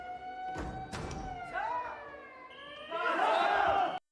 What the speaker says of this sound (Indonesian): Waktu malam tiba-tiba alarm gawat darurat amunyi